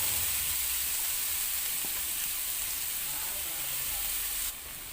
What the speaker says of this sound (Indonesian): minyak bekas menggoreng ayam ini akan aku gunakan untuk menumis bumbu